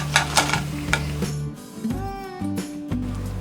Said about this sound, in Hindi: हम इसे लो मीडियम फ्लेम में फ्राई करेंगे